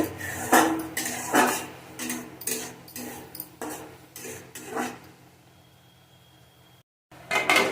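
Metal cookware clatters as a lid is handled and set onto a cooking pot while potatoes and green tomatoes cook, giving a series of sharp close clanks and scrapes, then a short pause and one more clatter.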